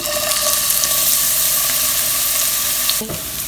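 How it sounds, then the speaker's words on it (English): Diced onions frying in canola oil over medium heat in a pan, a loud, dense sizzle that holds steady and close, then dips briefly near the end as stirring shifts the sound. "We have heated up 2 tablespoons of canola oil over medium heat. And now we're going to add diced onions."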